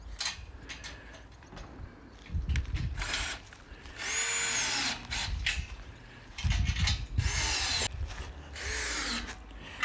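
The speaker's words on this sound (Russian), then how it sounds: "Мощные шуруповерты." A powerful cordless screwdriver drives screws into a swing frame, with repeated whirring bursts of a few seconds each separated by quieter handling and rubbing noises, heard close and with no voices.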